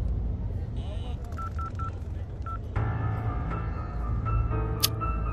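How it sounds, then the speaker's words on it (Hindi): A telephone dialing tone sequence of short repeated beeps plays as a call fails to connect, followed by a steadier ringing or line tone, with faint talk beneath. "पता नहीं अब फोन ही नहीं लग रहा है।"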